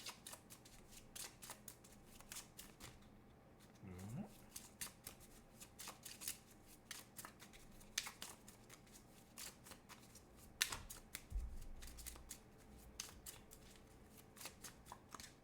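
Tarot cards are shuffled again and again, a soft, close riffling and flicking with brief pauses, very quiet and with no voices.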